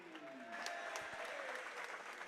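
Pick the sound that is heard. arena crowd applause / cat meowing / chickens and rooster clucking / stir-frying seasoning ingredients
arena crowd applause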